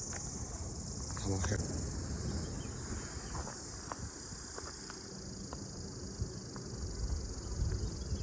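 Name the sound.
crickets chirping in forest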